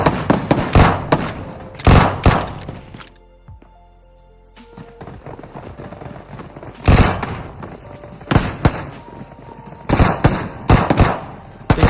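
Video game goons fire indiscriminately on poor villagers, with sharp bursts of gunshots in loud clusters, a brief lull of quieter ambience in the middle, then more scattered close shots.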